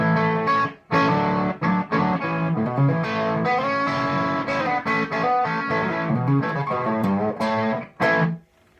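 An electric guitar plays through a Vox Lil' Night Train amp on its bright channel at high gain, with crunchy distorted chords and single notes in a continuous phrase broken by a few brief pauses.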